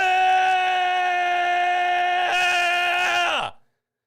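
A man lets out one long, loud, sustained scream lasting several seconds, steady in pitch before it trails off and drops sharply into silence.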